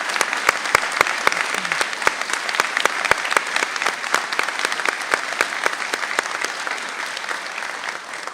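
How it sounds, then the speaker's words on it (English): Sustained audience applause at a veterinary college white coat ceremony, dense clapping from a large indoor crowd with sharper individual claps standing out, continuing for the full stretch and easing slightly at the end. "Let's give them a big round of applause."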